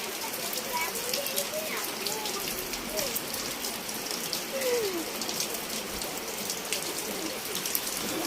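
Rain falling outside a balcony during a hailstorm day, a dense steady patter of drops on surfaces, close and continuous, with faint background sounds but no clear speech.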